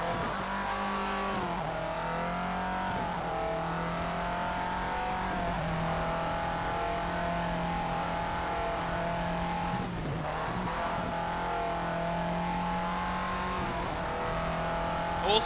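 Subaru Impreza rally car racing up Pikes Peak in the Colin McRae Dirt video game, a loud sustained engine drone with shifting revs and gear changes, continuous and close, with no voices.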